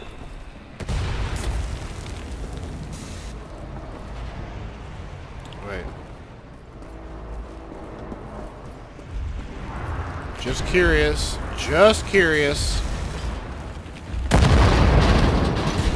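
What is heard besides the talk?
cannon fire explosions in video game Wolfenstein The New Order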